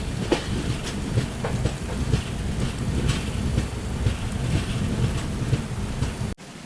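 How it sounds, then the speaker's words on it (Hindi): Mangala Express, running Ernakulam to Nizamuddin, approaches on a single line for a crossing during rain, a steady low rumble blended with the hiss of rainfall and a few sharp knocks, ending in an abrupt cut. "अब आगे से आ रही है मंगला एक्सप्रेस जो कि एर्नाकुलम से निज़ामुद्दीन के लिए जा रही है।"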